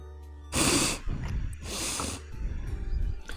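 Close, breathy sniffing in two strong bursts, with fainter snuffling and breathing between them, heard alone without talk.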